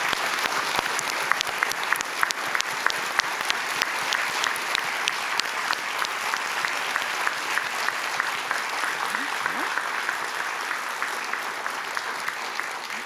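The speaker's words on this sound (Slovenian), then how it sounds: "mislim, da res en velik aplavz" A live audience claps steadily in a sustained, dense round of applause at a charity event, filling the whole stretch at an even loudness with no break.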